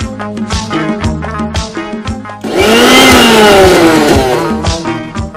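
A kitchen mixer grinder starts up midway and runs loud and steady, a whining motor roar with rising pitch that fills the rest of the few seconds, following softer background music.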